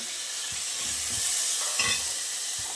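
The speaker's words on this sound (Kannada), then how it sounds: "ಇದನ್ನು ಇವಾಗ ಇದೇ ಎಣ್ಣೆಯಲ್ಲಿ ಫ್ರೈ ಮಾಡ್ಕೋಬೇಕು" Dried shrimp sizzling steadily in hot oil in a pan for a Kannada dried-shrimp and basale curry, with a few soft stirring scrapes over the continuous frying hiss, close and moderately loud.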